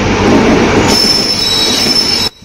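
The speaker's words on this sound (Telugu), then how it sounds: "Rameshwaram Ayodhya Cantonment Superfast Express is arrived on" Rameshwaram–Ayodhya Cantonment Superfast Express pulling into a station platform, loud close rumble of rolling wagons, then a sustained high wheel squeal before the sound cuts off abruptly.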